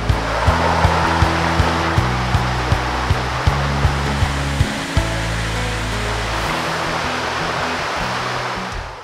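Baol Falls in Aurora pours in a steady, broadband rush of falling water close by, with a low hum and periodic soft thumps running underneath.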